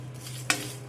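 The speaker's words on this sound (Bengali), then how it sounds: "হালকা আঁচে এভাবে নাড়াচাড়া করে একটু ভাজা করে নিতে হবে" Whole spices, including cracked cardamom, being stirred and dry-roasted in a pan over low heat, heard as a faint steady scraping with two brief louder scrapes of the utensil against the pan, no voices.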